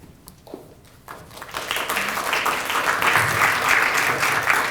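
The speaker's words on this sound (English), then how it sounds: "now I'm going to start expecting people to clap every time I just stand up in front of them" An academic lecture audience at a Florentine Codex symposium applauds the session chair: a few faint taps, then clapping swells from a sparse start into steady, fuller applause across the room.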